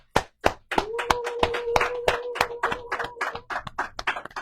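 A church congregation claps in praise of God during a French-language worship service, starting with a few separate claps and building into steady rhythmic clapping at close range, with voices faintly mixed in.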